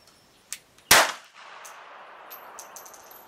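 A single loud, sharp report from a .380 EZ pistol rings out with a metallic ring as it decays, preceded by a faint click.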